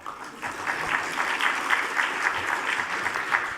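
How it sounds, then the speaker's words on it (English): Applause in a council chamber during a full council budget meeting: a steady burst of many people clapping, fairly soft and even, sustained for a few seconds with a slightly rhythmic pulse. "Biggest round of applause so far."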